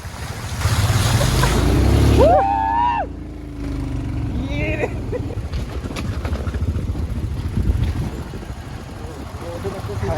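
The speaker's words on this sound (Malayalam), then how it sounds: "ഏകദേശം 2 കിലോമീറ്ററോളായി ഈ വെള്ളത്തിലൂടെയുള്ള റോഡിൽ നമ്മളിങ്ങനെ ഓടിച്ചു വരുന്നത്." An off-road motorbike rides along a road running through water on a Ladakh mountain route, with loud continuous splashing and rushing wind buffeting the microphone. A voice briefly speaks over it near the start.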